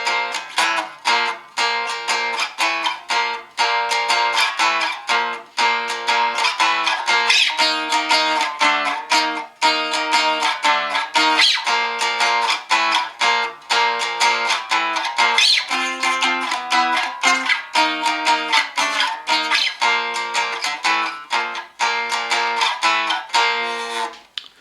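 An acoustic-style guitar plays a 12-bar blues progression, chords sliding up and down the neck, strummed in a steady rhythm with crisp, loud attacks throughout, alone without voice.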